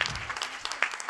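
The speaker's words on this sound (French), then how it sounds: "Donc là, on peut l'applaudir." Audience clapping at a French talk on soft skills, a light scattered patter of hands with a few sharper claps, fairly quiet and brief.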